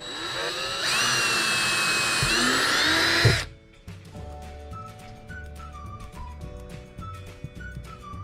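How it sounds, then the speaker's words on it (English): A power drill bores holes through a truck's front bumper while fitting a hitch to a Ford Super Duty, a loud high whine lasting about three seconds before stopping, then quiet shop sounds and faint music. "drill a hole in each corner."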